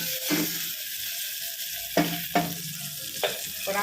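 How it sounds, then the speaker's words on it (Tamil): Curry leaves and asafoetida hitting hot oil for a tempering, a steady close sizzle with a few sharp crackling bursts, moderately loud and heard alone. "கொஞ்சம் பெருங்காயம் போட்டு தாளிப்பு கொடுத்தோம்னா டேஸ்ட்டு நல்ல மணமாக சூப்பராக இருக்கும்"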